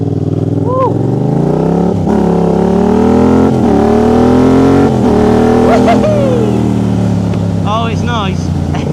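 A motorcycle in Kenny Roberts racing livery revs loudly up close, its engine note rising and falling through several throttle blips, then pulls away and fades, with people exclaiming over it.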